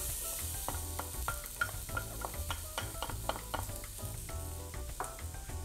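Chopped onion hitting warm achiote oil in a pan for a Colombian seafood casserole, setting off a close, continuous sizzle broken by a run of sharp clicks and scrapes as it is stirred, with nobody speaking.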